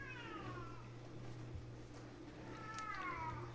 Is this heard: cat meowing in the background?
yes